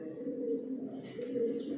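Pigeons softly cooing on a rooftop loft where birds are kept, a faint, low, steady burble with a light chirpy edge partway through.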